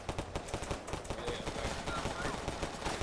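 Rapid gunfire in the Roblox game Tha Bronx 2, a dense run of repeated shots spread across the whole stretch with steady crackling bursts and a voice faintly underneath.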